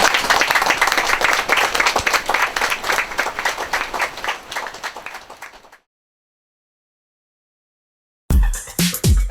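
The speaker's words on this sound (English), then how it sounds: "I'd like today for all of us to give a round of applause to Junior" Loud crowd applause and clapping rolling steadily for several seconds before cutting off into silence, then returning abruptly.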